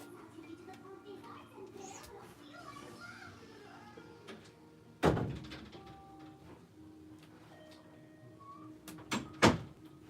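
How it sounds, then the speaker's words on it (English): A door is pushed shut indoors, giving a sharp thud near five seconds and another pair of knocks near the end, over low room noise and faint background voices. "Let me close this door."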